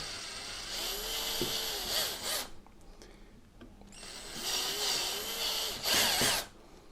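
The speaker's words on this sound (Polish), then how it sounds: "mam wiertarkę, mam wiertło, sprzęgło ustawione i rzeźnimy" A power drill bores into the casing of a UPS unit in two bursts, each with a rising and falling whine over grinding bit noise, separated by a short quiet pause, close and moderately loud.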